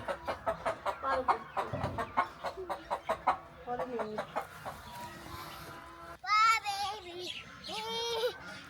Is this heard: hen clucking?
yes